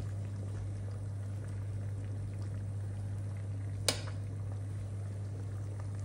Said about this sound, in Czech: rajče, který dám do vařící vody